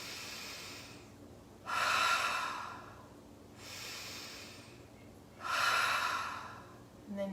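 Forceful breaths through the nose in a yoga breathing exercise come as three strong, close whooshing bursts about two seconds apart, with quieter breathing between them and no talk.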